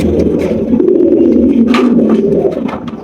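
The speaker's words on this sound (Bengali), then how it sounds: "রয়েছে আরো একটা ব্লু ম্যাকপাই পটার কবুতর দেখতেই পাচ্ছেন" Blue magpie pouter pigeons coo at a pigeon seller's, a loud, close, rolling low cooing that carries on steadily with no talk over it.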